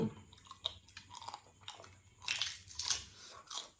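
Crispy baked chicken crunches in close, irregular bites and chews, with brighter crackling bursts toward the end and no talk.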